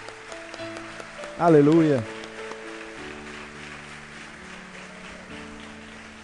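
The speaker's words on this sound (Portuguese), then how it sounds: "vamos dar um aplauso para Jesus pela vida desses pastores" Church congregation bursts into a short, loud round of applause lasting about half a second to a second, rising above a background of sustained music and a voice.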